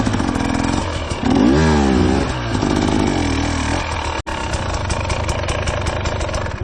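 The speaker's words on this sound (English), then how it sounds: "My motorcycle" A Beta Xtrainer motorcycle engine runs close by, loud and continuous, its revs swelling and dipping with a brief cut before it steadies into an even, buzzing drone.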